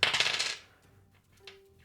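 Dice rolled on a table during a tabletop role-playing game, a short, bright clatter at the start that dies away quickly, followed by a faint small tap in a quiet room.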